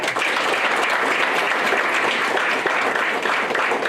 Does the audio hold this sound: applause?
yes